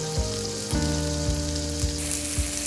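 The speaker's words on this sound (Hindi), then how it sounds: "फ्राइंग के लिए मैंने मोटे कबाब बना लिए" Thick beef seekh kababs fry in oil with a constant bright sizzle, while a low pulsing hum repeats at regular intervals underneath.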